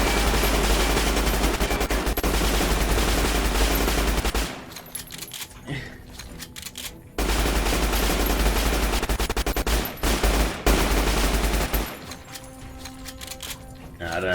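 Sustained loud automatic gunfire from a weapon in Fallout New Vegas comes in two long bursts, each followed by scattered single shots and mechanical clatter.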